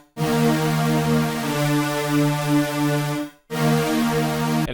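Bright synth melody from a Serum Molly preset, a sustained harmonic lead moving through a repeating phrase, loud and up close, cutting off briefly before the line starts again; no talking.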